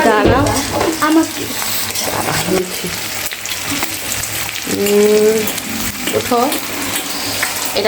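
Duck meat frying with potatoes in a pan, a loud close sizzle and stirring scrape running throughout while people talk intermittently over it.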